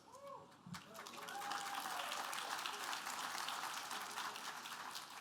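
Applause from a convocation audience builds into a steady wash of clapping after a brief sung or spoken voice at the start, with a voice heard faintly over the crowd.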